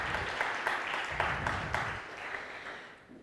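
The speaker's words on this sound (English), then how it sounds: "a round of applause for putting this together" Audience applause at a conference talk on ethics in digital product design, a dense, steady clapping that holds for about three seconds and then thins out near the end, heard without any talk.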